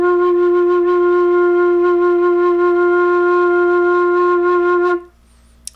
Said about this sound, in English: we're gonna play our low F